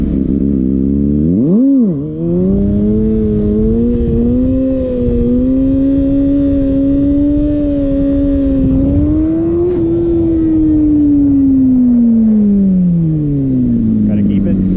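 Kawasaki ZX6R sport motorcycle engine at close range, loud and steady, with a rising rev near the start and gradual pitch swells as it rides along slowly.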